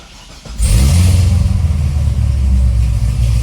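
A low-mileage Corvette C6 ZR1 with a supercharged LS9 V8 and stock cam fires up. After a brief crank, a loud, deep idle rumble takes over and holds steady.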